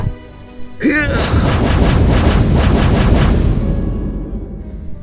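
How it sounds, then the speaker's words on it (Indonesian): Fireballs explode in a fantasy battle inside a cave: a sharp whooshing onset swells into a loud, sustained roaring blast with rumbling, crackling texture that slowly fades over several seconds. "Ledakan bola-bola api itu cukup dahsyat hingga mengguncang seluruh gua"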